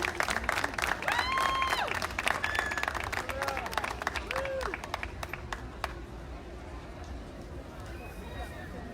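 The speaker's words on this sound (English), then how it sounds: "Big round of applause for contestant Julia Siebert." Audience applause for a county fair contestant fills the clip with steady, dense clapping, while crowd chatter and a few voices carry over it and the applause stays loud throughout.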